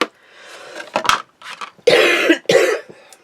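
A person in a craft session coughs in several harsh, loud bursts at close range, with brief gaps between fits.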